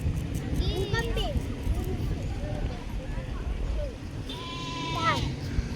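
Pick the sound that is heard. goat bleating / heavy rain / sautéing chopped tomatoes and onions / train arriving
goat bleating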